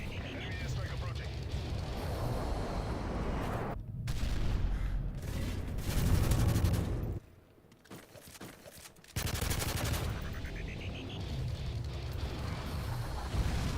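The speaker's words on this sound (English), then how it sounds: "Airstrike approaching." Airstrike explosions and rapid gunfire in the Modern Warfare 3 video game: a dense, loud wall of blasts and shots that briefly drops away midway, then roars back.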